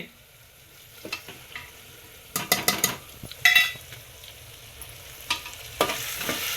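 Spices fry in a pan of rice with toor dal while a spoon stirs and clatters against the metal, giving scattered close scrapes and knocks over a quiet, low sizzle.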